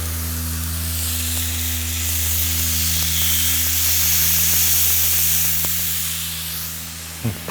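Avocado burger patties sizzle steadily in a hot pan, a broad, even frying hiss over a low kitchen hum, ending with a couple of short clinks.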